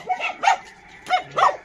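A small rescued dog barks four times in short, sharp yips, close by, in two quick pairs with a pause between them.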